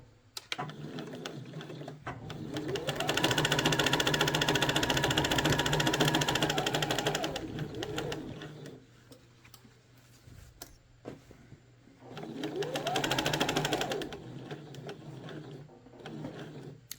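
A sewing machine stitches a shirt seam in two loud, sustained runs, the motor whirring up, holding steady and winding down, separated by a quieter pause with light handling sounds.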